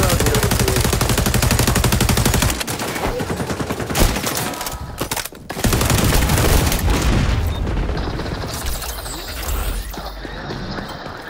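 Rapid automatic gunfire in the video game Call of Duty, loud bursts of fire and explosions that rattle on, break off briefly, then resume with quieter shots toward the end.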